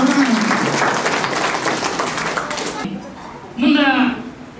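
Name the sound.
applause at a retirement felicitation ceremony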